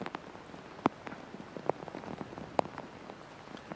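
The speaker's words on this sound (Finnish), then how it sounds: "Tähän selostamon ikkunaan kopisee pisaroita ja kuten kuulette tuolla metsässäkin, niin kyllä sade rummuttaa" Heavy rain drumming in a forest and pattering on a window during an orienteering relay, a dense, quiet, continuous patter with a few sharper drops at regular intervals.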